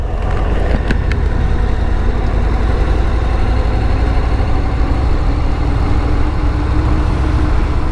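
A motorcycle engine idles steadily with the clutch squeezed in, giving a constant low rumble that stays loud and close for the whole stretch, with no revving and no talk over it.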